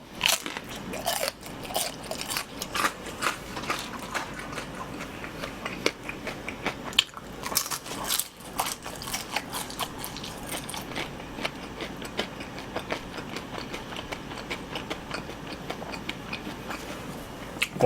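Fried shrimp from a Korean street-food spread with tteokbokki and fish cake being bitten and chewed up close, a dense, continuous run of loud crunches and crackles with no talking.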